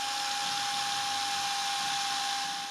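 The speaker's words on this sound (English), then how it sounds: "Now we can go ahead and drill our pilot holes for these two screws" A power drill bores pilot holes for screws in an RV door with a steady, close, continuous whine holding one sharp tone over a buzzing hiss, unbroken for the whole stretch with no talking.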